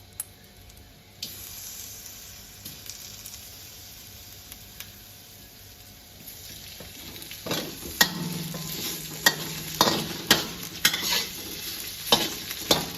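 Frozen shrimp hitting a hot pan of garlic while stir-frying mixed vegetables, a Thai dish: soft sizzling swells midway, then a run of sharp scraping and stirring clatters from close by, with no talk.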